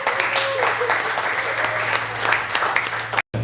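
A church congregation applauds to acclaim the Lord, a dense, continuous wave of clapping from many hands filling the room, with scattered voices mixed in and a brief cut near the end.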